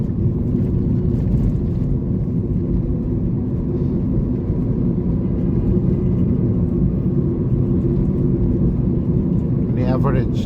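Steady low engine and road rumble from inside a Toyota Corolla driving around Jahangirnagar University, a constant drone throughout with a brief voice near the end.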